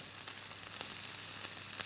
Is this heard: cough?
no